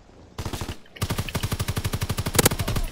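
Rapid automatic gunfire in the Call of Duty: WWII multiplayer match on the Flak Tower map, loud and close, a steady rattling burst of evenly spaced shots following a brief single volley.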